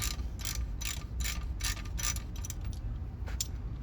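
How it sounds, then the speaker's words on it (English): Ratchet fitted with a short 17 mm socket loosening the drain bolt on a car's manual transmission, giving a run of rapid metallic clicks in quick bursts, close and clear, with no talking. "Now you're gonna wanna get your ratchet with a short 17."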